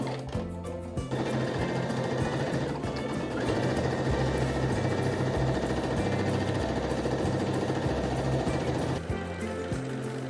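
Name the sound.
sewing machine sewing dress lining side seams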